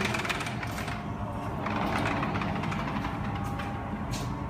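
A steady mechanical hum and whir from a running clothes dryer in a Korean laundromat continues without a break, with a faint rattle.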